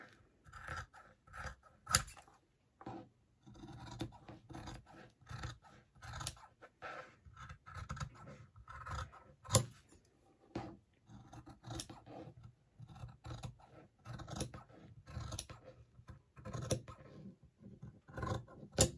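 Scissors cutting through green fabric pieces for a Christmas stocking, a close, quiet series of crisp snipping strokes in an uneven rhythm, alone without talk.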